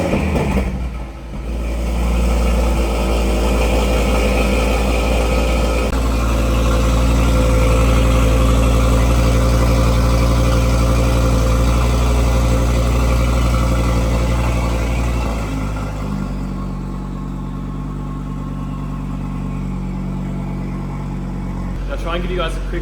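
An Audi RS3 fitted with a custom downpipe and midpipe exhaust starts cold and settles into a loud, deep, steady idle that drops slightly in level toward the end, heard alone.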